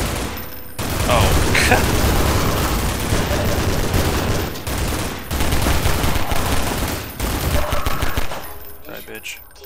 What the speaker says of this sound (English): Where are these guys shooting from?